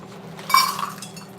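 Chocolate chips poured into a measuring cup make a short burst of bright, rattling clinks midway through, with a quiet background before and after and no talk.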